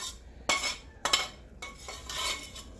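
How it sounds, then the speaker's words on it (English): Browned ground beef stirred into cheese sauce for baked macaroni and cheese: a few scraping, clinking spoon strokes against a pot, close and moderately quiet, repeating roughly every half second, with no talk. "We're just going to mix that right in our cheese sauce."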